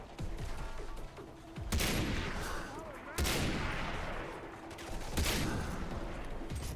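Far Cry 3 gunfire in bursts: three loud volleys of shots, each opening sharply and then trailing into a rolling, echoing wash. The firing is close and sustained, with no voices over it.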